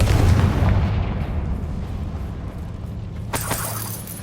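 A Confringo blasting spell explodes in Hogwarts Legacy with a loud, heavy boom that rumbles and slowly fades over several seconds, followed by a brief sharp crackle near the end.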